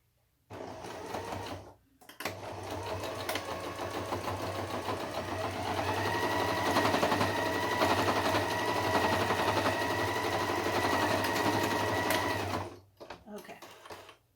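A sewing machine stitches a fabric face mask, starting after a brief pause and running in a steady, fast mechanical whir for about ten seconds before stopping; close and clear, with a short burst of softer clatter at the end.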